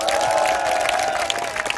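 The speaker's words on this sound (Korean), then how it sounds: "힘찬 박수 한번 부탁드립니다" Crowd applause at a labor union rally, a dense, steady wash of clapping under a sustained tone that runs through the whole stretch.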